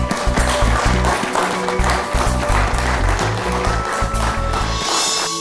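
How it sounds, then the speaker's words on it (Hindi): An audience applauds for Jayanti madam at a spiritual gift ceremony, a sustained clapping wash layered over loud music with a steady beat. "जयंती मैडम गोटे जोरदार तालीटे देदेबा"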